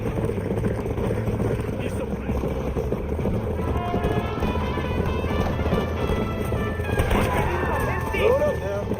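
A horse gallops in the Red Dead Redemption video game, with rhythmic hoofbeats drumming under game music and ambient effects, steady and close throughout.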